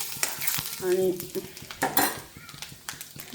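Chopped onion and garlic frying in hot oil in a pan, a close sizzle broken by clattering stirring and utensil knocks against the pan, with a brief voice at one point.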